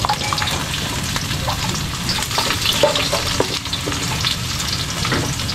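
Ginger and garlic fry in hot oil in a pan, giving a loud, continuous sizzle with a few light scrapes from stirring and no talking.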